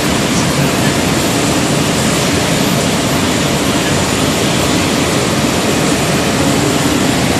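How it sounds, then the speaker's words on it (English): A Nigerian government jet's engines roar loudly and steadily at an airport, a broad continuous rumble with no breaks and nothing else standing out. "Nigerian government jet."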